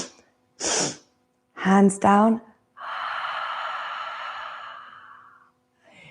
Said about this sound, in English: We're going to give a nice big sniff, 3 big sniffs of our carrot.